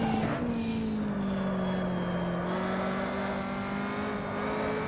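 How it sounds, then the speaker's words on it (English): A fixed-wing airplane passes low over a race track where Caterham Superlight cars are competing, its engine drone sliding slowly in pitch and holding steady and fairly loud throughout, with no talk. "the plane coming over the track is pretty cool"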